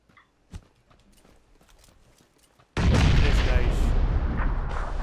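A grenade blast erupts in the battle royale game PUBG. Faint distant pops and small taps come first, then a sudden, loud, sustained explosion roars out and lingers to the end.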